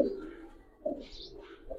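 Giribaz pigeons, a fine female among them, give soft, low coos in a couple of short phrases close by, with faint higher chirps in between and no voices.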